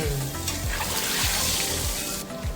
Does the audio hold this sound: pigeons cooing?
no